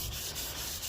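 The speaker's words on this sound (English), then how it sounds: "you're just going to lightly sand it like that" Sandpaper lightly scuffing chipped automotive paint on a car body, a soft continuous rubbing hiss with faint repeated strokes, close and steady with no talk.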